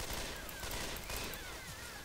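Gunfire in the zombie shooter game Left 4 Dead 2, a steady dense stream of rapid shots with whizzing effects, loud and continuous with no pauses.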